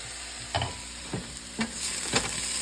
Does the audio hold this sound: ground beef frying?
yes